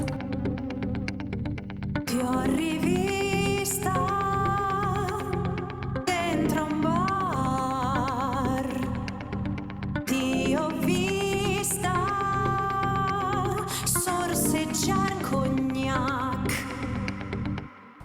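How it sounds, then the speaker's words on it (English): A sung lead vocal line with wavering, melismatic phrasing over a steady music backing, continuous and fairly loud throughout. "And then I have this lead vocal, which sounds like this."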